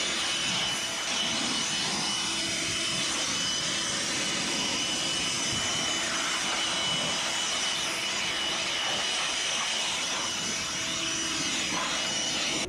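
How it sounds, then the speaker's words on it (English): Small handheld blower clearing debris out of equipment after a forensic cleanup job, a steady, rushing high-pitched roar of air that holds at constant loudness throughout, close to the microphone, with no speech. "I'm gonna blow this thing out with my little blower"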